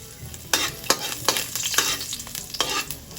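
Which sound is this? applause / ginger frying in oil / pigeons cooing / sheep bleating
ginger frying in oil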